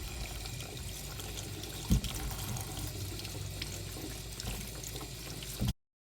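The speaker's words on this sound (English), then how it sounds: "we're going to place the strainer in the sink to wash the strawberries" Tap water runs steadily into a sink while strawberries are washed in a strainer. The close, constant splashing has a couple of soft knocks before it cuts off abruptly near the end.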